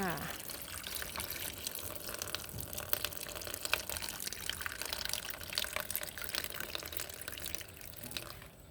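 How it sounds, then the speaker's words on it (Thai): Water is squeezed out of a sponge holding lettuce seedlings, a soft, wet trickling and dripping that goes on steadily beneath a voice talking over it. "เอาน้ำในฟองน้ำออกให้หมดเลยค่ะ"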